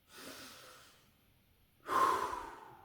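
Deep breathing during a breathing exercise before a cold shower: one long, soft exhale, a pause, then a strong, rushing breath, close and clear, with no talking.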